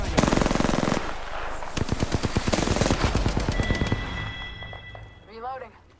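Apex Legends gunfire: sustained machine-gun bursts and rapid single shots crack loud and close across several seconds, with a voice briefly heard near the end.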